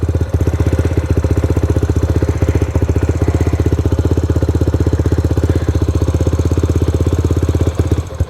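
A Yamaha Raptor 125 ATV engine runs at a fast, steady high idle, its loud, even putter close by and continuous throughout with no talking.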